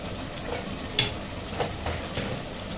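Whole spices with green chilli sizzle gently in a pan for chicken korma, with a few soft scraping strokes of stirring spread across the short stretch.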